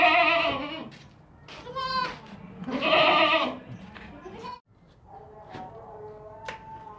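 Several loud, close bleats from a healthy young female goat offered for sale, in wavering harmonic calls separated by short pauses, with a quieter tail of bleating at the end.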